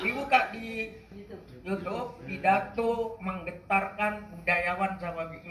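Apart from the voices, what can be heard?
No everyday noises stand out.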